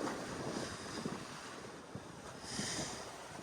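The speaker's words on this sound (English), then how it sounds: "Got a little bit of wind." Wind buffets a boat on open water among islands in the Tongass, Alaska, a steady rushing roar with gusts and faint wave wash, close to the microphone.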